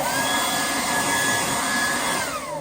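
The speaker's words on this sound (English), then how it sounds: "Here's my handy dandy blower." A handheld blower runs continuously up close with a loud, whooshing roar and a steady whine, used to clean bonsai benches, easing down slightly at the end.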